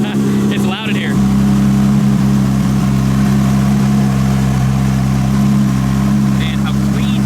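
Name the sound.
Nissan Skyline R32 GTR RB26 engine revving, straight-pipe exhaust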